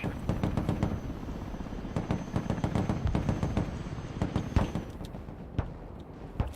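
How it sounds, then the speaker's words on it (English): Mortar fire in the multiplayer war game Broken Arrow: repeated sharp booming shots and blasts over a constant roaring rumble of engines and battle noise, dense and steady with no voices. "Alright, mortars, let's go. Copy. Fire."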